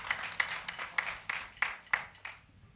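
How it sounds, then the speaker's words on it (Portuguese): Rhythmic hand claps from an audience applauding a performer at a virtual stage concert, a steady run of fairly faint, even claps that fade out toward the end. "Palmas para a Sara."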